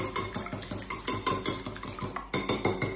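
Utensil stirring an egg and coriander mixture for an omelette wrap, giving quick rhythmic clinks and scrapes against a bowl, steady and close, with no talking.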